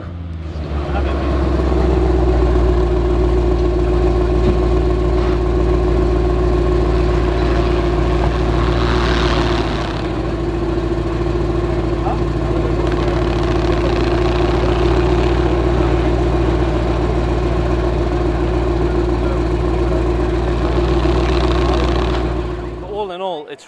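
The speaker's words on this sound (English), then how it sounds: "I was lucky enough to be around when they turned the car on, so let's see what the beast sounds like" A Mercedes-AMG GT four-door with a V8 fires up and settles into a loud, deep, steady idle, the rumble holding close and even for about twenty seconds while voices talk faintly over it.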